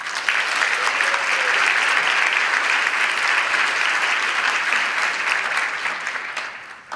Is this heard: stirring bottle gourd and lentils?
no